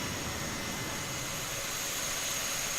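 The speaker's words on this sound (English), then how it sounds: "Hear your engine spool up." An Airbus A320 jet engine spooling up in a flight simulator game, a steady, even roar with a faint high whine, no talk over it.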